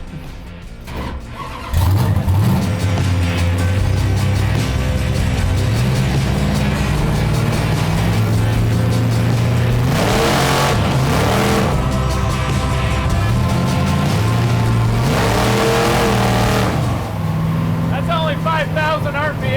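A Studebaker 440 gasser engine roars loud and close, revving up and down in repeated sweeping surges with steady exhaust rumble throughout, while voices speak over it.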